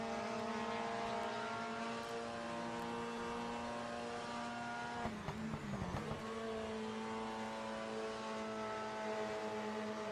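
A 1973 British Formula 3 race car runs in the GKN - Daily Express International Trophy, its engine a loud, sustained, buzzing drone that roughens briefly midway before settling again, with no voices.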